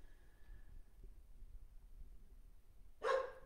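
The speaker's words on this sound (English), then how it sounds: "Clearly, my dog, one of my dogs, has joined us." A single loud, sharp dog bark close by in a quiet room near the end, after near silence with low background hum.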